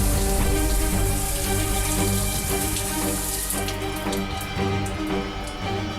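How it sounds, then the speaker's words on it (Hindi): Water runs steadily indoors, a dense hiss and patter like a tap or shower behind a wall, continuous and fairly loud, thinning slightly toward the end. "ये पानी बंद होने की आवाज अंदर से कैसे आ रही है?"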